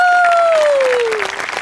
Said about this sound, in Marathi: त्यांच्यासाठी टाळ्या वाजूया